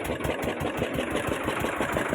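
A motor boat engine runs close by in a steady, loud, rhythmic chug that throbs evenly throughout, with no voices over it.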